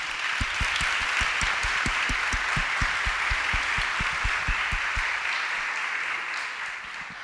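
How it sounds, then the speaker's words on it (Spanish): An audience applauds the speaker Marina Lisenberg at the 2018 Libros y Maestros annual gathering: a dense, sustained wash of clapping with steady low thumps running beneath, easing off slightly toward the end. "les pido un fuerte aplauso para Marina"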